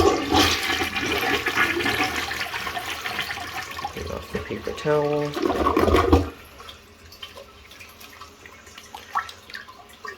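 A neglected toilet bowl flushes with a loud rushing gush of water that drains away after about six seconds, followed by faint trickles and drips while a person speaks briefly.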